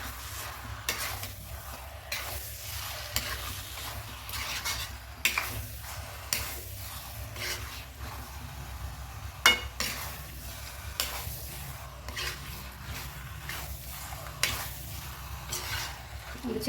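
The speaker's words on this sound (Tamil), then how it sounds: "போட்டு நல்லா மிக்ஸ் பண்ணிக்கலாம் இந்த மசாலாவில்." Chicken pieces stirred and fried in a masala for chicken gravy in a home kitchen: continuous sizzling with repeated scrapes and clinks of a spoon against the pan, close and steady, no talking.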